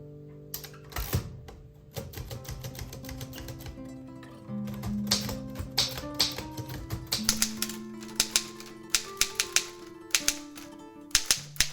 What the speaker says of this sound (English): I'm gonna use my Underwood 6 to do the envelope for the pen pal letter from yesterday